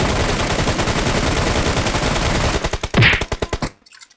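Rapid automatic gunfire from the battle royale game PUBG, a loud sustained burst of dense shots that thins into separate cracks before stopping abruptly, followed by faint quiet.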